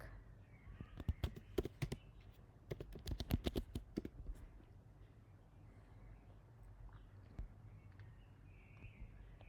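Commands are typed on a computer keyboard in quiet, uneven bursts of rapid clicking keystrokes, followed by sparser, isolated taps.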